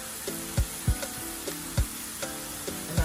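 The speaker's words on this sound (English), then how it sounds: "And I'll continue stirring it." Spaghetti bolognese sauce sizzling in a pan as a spoon stirs it, a steady close frying hiss broken by repeated low thuds and scrapes from the stirring, with no talking.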